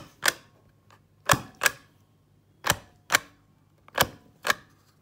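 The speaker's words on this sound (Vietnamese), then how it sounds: "các bạn chỉ cần đóng dấu xuống giấy" A self-inking rubber stamp for marking bills as paid is pressed down onto paper, making seven sharp, close clacks at uneven intervals with quiet gaps between them.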